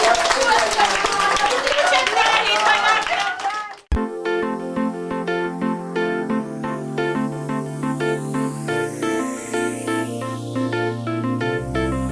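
Children and adults clap together amid lively voices at a New Year's party for children at a centre, lasting about four seconds before an abrupt cut to a sung melody with accompaniment.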